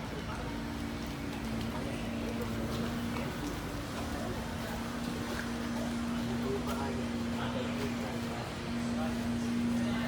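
A small boat crossing from Tarakan harbor to Sebatik hums with a steady engine drone under broad wind and water rush, with voices talking faintly in the background.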